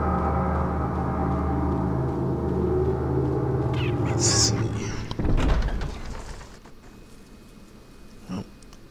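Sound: door opening in Resident Evil 4 video game

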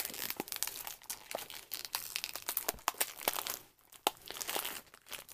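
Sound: blind bag packaging opened with scissors

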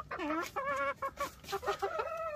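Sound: chickens clucking

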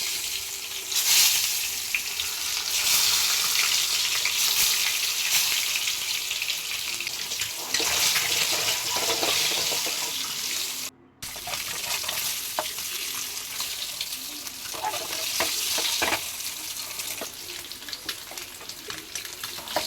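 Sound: frying eggs with turmeric in hot oil

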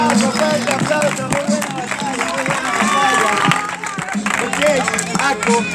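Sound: audience applause at rap battle

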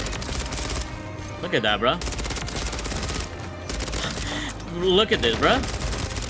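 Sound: ISO 9mm SMG gunfire in the video game Call of Duty MW3

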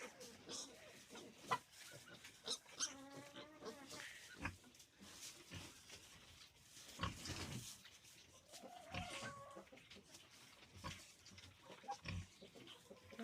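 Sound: pigs

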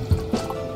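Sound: drops of Sprite poured onto slime

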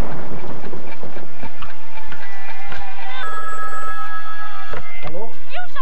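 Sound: telephone ringing

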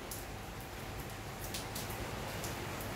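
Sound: rain falling

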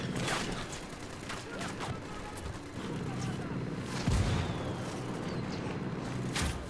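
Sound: artillery indirect fire strike in Ghost Recon Wildlands video game

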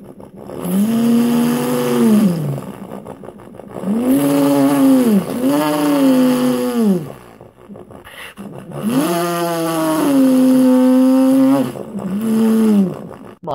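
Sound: voice imitating a monster truck engine

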